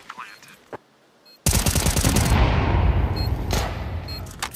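Counter-Strike gunfire: a few sharp shots, a pause, then a grenade blast followed by a loud, sustained burst of spraying gunfire that slowly thins out with scattered final shots.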